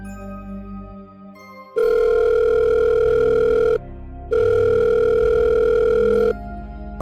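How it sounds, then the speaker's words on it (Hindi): A telephone call being placed in a cartoon: two long, loud electronic tone bursts with a short gap between them, like a ringback signal after dialing, with a quieter lead-in before the first tone. "फिर कॉन्ग अपने दोस्त को फ़ोन लगाता है"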